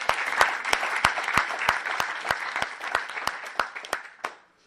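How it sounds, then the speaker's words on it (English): An audience at a Narcotics Anonymous meeting gives a round of applause, a close, lively patter of clapping with sharp individual claps standing out, ending abruptly after about four seconds. "Can we give them another round of applause?"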